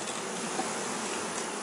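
Honeybees buzz close around a hive frame, a steady, dense drone that holds for the whole short stretch with no voices.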